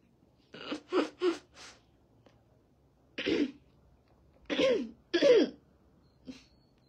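Series of close, sharp coughs and throat clearing, about six bursts in irregular clusters with brief pauses between them, heard alone.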